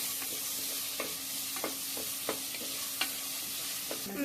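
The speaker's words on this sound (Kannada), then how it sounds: "ಆ ಗ್ರೀನ್ ಮಸಾಲ ಹಾಕಿಬಿಟ್ಟು ಚೆನ್ನಾಗಿ ಫ್ರೈ ಮಾಡ್ಕೊಳ್ಳೋಣ" Green masala paste frying in a pan with onions, giving a quiet steady sizzle with a series of light utensil taps and scrapes every half second or so.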